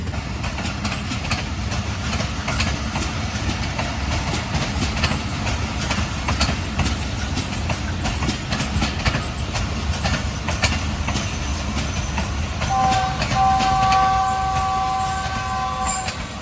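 At Lahore Cantt railway station on Pakistan Railways, a train gives off a loud, steady rumble and rolling clatter throughout, and a sustained tonal whine joins near the end.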